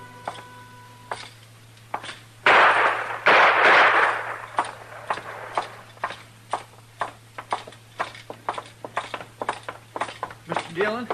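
A Gunsmoke radio drama shootout in a saloon: a sharp burst of gunfire and a loud blast near the start, then a run of quick, regular hoofbeat-like clops, with voices talking throughout.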